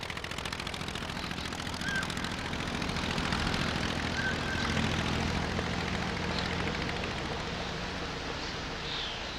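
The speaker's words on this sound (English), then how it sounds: "The Anzani engine of Blériot's plane ran perfectly" A vintage Anzani engine drives the propeller of Louis Blériot's early monoplane in flight, a steady loud drone with a buzzing, rattling texture holding constant throughout without any voices.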